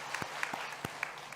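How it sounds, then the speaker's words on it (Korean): A church congregation gives a short burst of scattered clapping to welcome a visiting pastor, a few distinct claps standing out over a faint, quiet room. "우리가 다 함께 큰 박수로 환영하겠습니다."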